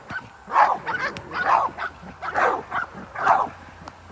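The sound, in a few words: purebred dog barking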